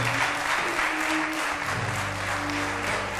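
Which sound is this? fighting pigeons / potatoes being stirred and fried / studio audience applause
studio audience applause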